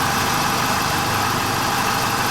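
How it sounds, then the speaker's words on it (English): A 2004 BMW 318i engine idles steadily up close after a thermostat replacement, a constant loud mechanical hum with a faint vibration and no talking. "Starting to go down in the idle"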